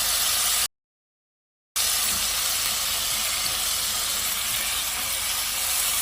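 Fish sizzling and frying in a pan after being flipped to its second side, a steady loud hiss broken by a brief dropout near the start.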